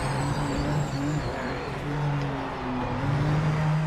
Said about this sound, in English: You can hear all the other cars around you.